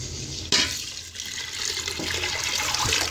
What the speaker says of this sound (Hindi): मैं इसके अंदर 5 प्याली पानी ऐड कर दूँगी